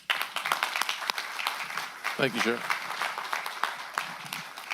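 An audience at a county supervisors' meeting applauds honored sheriff's department staff, with moderately loud clapping running under a voice speaking briefly.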